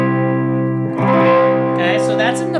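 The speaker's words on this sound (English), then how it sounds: "So let's just do like a C bar chord." A C barre chord is strummed on a PRS SE DGT electric guitar with reverb, ringing out fully with a second strum and a swirling reverb tail, loud and close.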